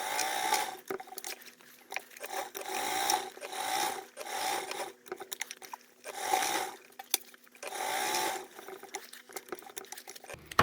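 A sewing machine reverse-stitches a tote bag in repeated bursts of fast rattling stitching, each run lasting about a second with short pauses between, close up and steady.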